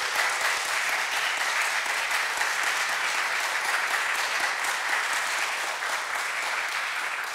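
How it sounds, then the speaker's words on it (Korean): A church music lecture audience claps in a dense, continuous round of applause for the speaker, loud and even throughout with no talking on top. "우리 재밌게 얘기해 주신 이호중 라파엘 선생님께 큰 박수 부탁드릴게요"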